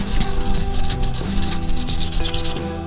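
Close, loud rubbing strokes of a finer abrasive pad across a faded car headlight lens, a rapid steady back-and-forth rasp repeating without pause.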